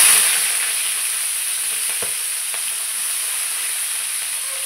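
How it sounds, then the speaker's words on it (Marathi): Dingri mushrooms fry in hot oil in a pan, producing a steady, even hiss of sizzling, loud at first and settling slightly, with a couple of faint taps and no talking. "आपण ही डेंगरी तेलामध्ये तळून घेऊया।"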